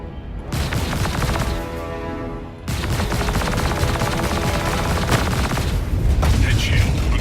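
Star Citizen spaceship shields struck by sustained gunfire, a dense continuous barrage of loud impacts and booms with a brief dip before resuming, steady and close throughout.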